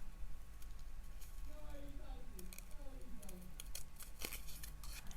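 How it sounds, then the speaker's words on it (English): Scissors snipping out a small paper bow tie shape, a run of soft, close clicking cuts through the middle of the clip over a steady low background hum. "I'm just going to cut out my little bow tie."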